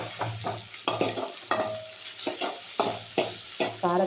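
Onion fries with green chili in a pan, a steady sizzle under repeated scraping stirs of a spoon against the pan, about ten strokes at an uneven pace, close and clear.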